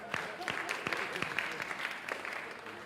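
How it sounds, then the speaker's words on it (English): Audience applause at an MIT Enterprise Forum event, a brief patter of clapping from a modest crowd, fairly faint and uneven, fading toward the end. "Round of applause for that."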